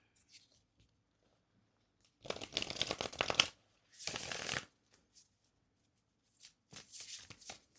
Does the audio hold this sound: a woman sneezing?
no